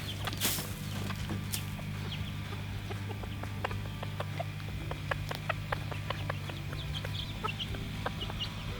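A hen makes soft, repeated clucks and short calls to her chicks, close by, over a steady low hum, with a few sharper chirps scattered throughout.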